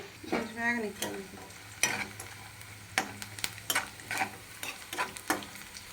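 Dry red chillies, curry leaves, seasoning seeds and ginger pieces tempering in a pan, a faint crackle under repeated sharp clinks and scrapes of a spoon stirring against the metal, with a brief voice at the start.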